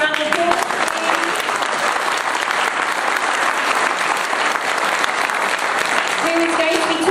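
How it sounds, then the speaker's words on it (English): A large audience at a political gathering breaks into sustained, loud applause, dense clapping filling the room with faint voices mixed in and no pause. "And let's give him a round of applause."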